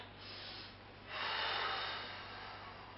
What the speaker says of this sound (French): J'inspire derrière.